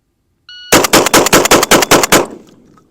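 A Mossberg 940 Pro semi-automatic shotgun fires a rapid run of about eight loud, close shots in quick even succession, ending with a fading echo.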